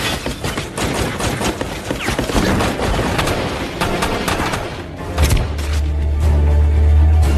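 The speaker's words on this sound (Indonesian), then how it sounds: "dan baku tembak pun tak terhindarkan" Rapid bursts of gunfire crackle back and forth in dense volleys, followed by a low rumbling engine drone near the end.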